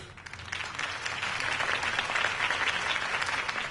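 Steady crowd applause rings out after a campaign speech in the Batman Telltale Series video game, a dense continuous clapping that holds at an even level throughout with no voices over it.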